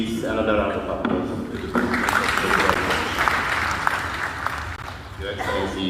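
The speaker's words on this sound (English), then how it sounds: "Please, another round of applause." Conference audience bursts into sustained applause, a dense wash of clapping filling the hall, with a voice speaking briefly near the start and again as the clapping tails off.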